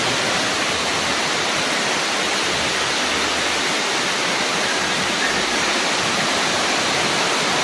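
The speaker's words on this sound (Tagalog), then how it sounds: "Malalim ang baha dito sa amin." Deep floodwater rushes steadily through a flooded neighborhood, a loud, continuous broadband roar with no breaks, close by and heard alone.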